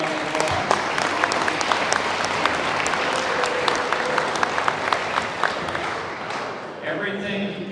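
Sustained audience applause for a board of directors at a Christmas in May morning program, steady dense clapping from a crowd that thins out near the end, with some voices mixed in.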